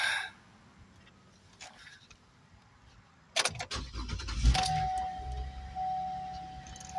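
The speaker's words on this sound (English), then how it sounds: "Vehicle is on, and the key comes out." A Chevy Traverse runs quietly while its ignition key is pulled out, giving sharp metallic clicks and rattles, followed by a sustained electronic warning chime over the low hum of the vehicle.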